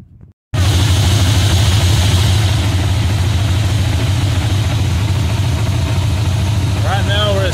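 A Vortec engine cranks and fires up, then settles into a loud, steady low idle that runs close and continuous to the end.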